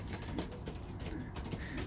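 Young pigeons cooing in a loft, soft low rolling coos heard close and continuous over a steady background hum.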